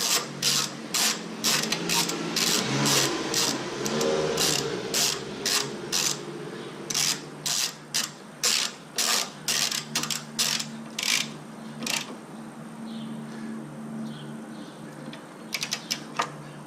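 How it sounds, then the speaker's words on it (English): A ratchet wrench tightening a 12 mm bolt while mounting horns on a 2017 Subaru WRX: rapid, sharp clicking bursts in regular strokes, loud and close, briefly pausing then resuming in quicker clicks near the end, with no talking. "just take my wrench here, put it back in."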